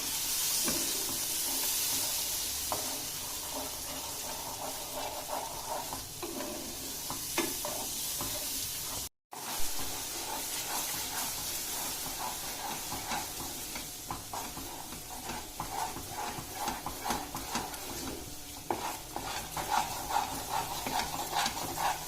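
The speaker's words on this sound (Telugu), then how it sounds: "వేసేసి కంటిన్యూస్గా తిప్పుతూ ఉండాలి, లంప్స్ ఏమీ రాకుండా" Custard liquid stirred continuously in a pan while cooking into halwa: a soft, steady sizzle and hiss with the faint scrape of a spoon, gentle and constant throughout.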